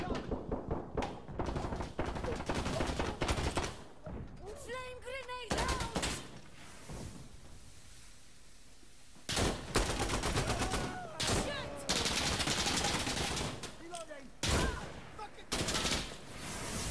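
Artillery explosive rounds fire in the Uncharted video game, dense rapid gunfire and heavy thumping blasts arriving in loud bursts with brief lulls, with shouted voices heard between the volleys.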